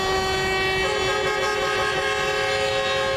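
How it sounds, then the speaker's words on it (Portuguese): Loud, sustained blaring of truck horns during a protest convoy along a city avenue, several overlapping tones holding steadily without a break, close and dominant. "o grito de justiça veio das buzinas dos caminhões."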